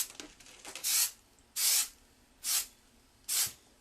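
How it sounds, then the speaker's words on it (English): Four short, even bursts of ceramic fabric ink sprayed onto the reverse side of fabric, each hiss lasting about half a second with brief quiet gaps between them, close and fairly loud. "on the back side, in the reverse, you want to spray it."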